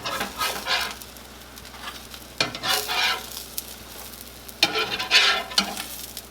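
Smash-burger toppings such as bacon and mushrooms frying in a hot pan, a close, steady sizzle with several louder bursts of stirring and scraping.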